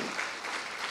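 Applause from a church congregation during a sermon, a steady dense wash of many hands clapping throughout the second, fairly close and even in level, with no talking over it.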